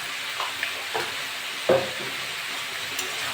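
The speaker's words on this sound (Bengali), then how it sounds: "নেড়ে চেড়ে দেবো।" Vegetables with shrimp fry in a pan with a steady close sizzle, seasoned with cumin powder and salt, while a spoon stirs through with a few soft scrapes and one sharper knock against the pan. No one speaks.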